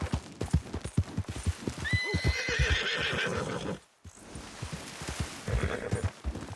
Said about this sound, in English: You finding my horse Buell or what?